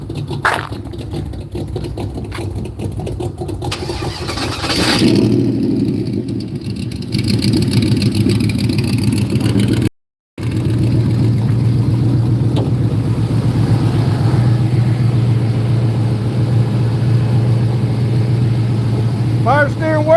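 A car engine idles steadily in a garage with its power steering working, a continuous low rumble that runs throughout, briefly cut off once, with people talking over it.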